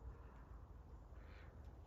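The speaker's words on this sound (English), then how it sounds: "Oh, hello ducks." Wild ducks quacking softly outdoors in a garden while flowers are cut for an arrangement, a steady low murmur of calls under a continuous background hum.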